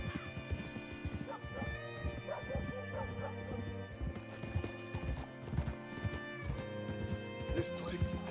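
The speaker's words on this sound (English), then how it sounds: "Hitch your horse up here." Horse hooves clip-clopping in a video game: a steady, moderately loud trot of hoofbeats under layered game music and ambience, with people talking over it.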